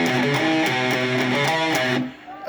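An electric guitar plays a bright arpeggiated riff, with clear picked notes ringing together in a steady rhythm before fading out near the end.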